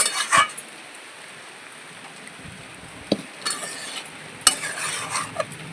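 Soybean potato curry is stirred and scraped from a pan with a metal spoon, giving sparse clinks and scrapes over a low sizzle, with a few sharper knocks as it is tipped into a serving vessel.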